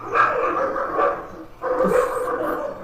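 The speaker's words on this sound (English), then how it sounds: "he will bark like he's gonna bite." A pet dog barks indoors in two bursts of loud, close woofs separated by a short pause, with no talk.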